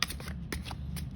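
Playing cards are shuffled by hand up close, a few quick riffling bursts with short pauses between them, steady and moderately loud.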